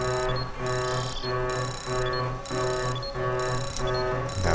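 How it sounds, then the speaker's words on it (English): An alarm in the video game Wasteland 2 rings in a steady repeating pattern, with a bright electronic tone and a regular beat cycling every second or so, unbroken throughout. "who can shut down this alarm?"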